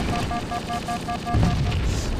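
Halo 3 gunfire, a rapid string of evenly spaced tonal shots from an automatic weapon, then a heavier rumbling blast, all fairly loud and close.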